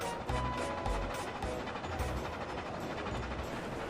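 Steam locomotive on a model railway backs down along the train, a dense rumbling roll with rhythmic clicks and clanks of wheels over rail joints, close and continuous without voices.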